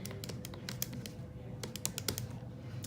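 Fingers tapping matrix entries into a calculator keypad, a quiet, irregular series of short, crisp clicks over a faint steady background hum.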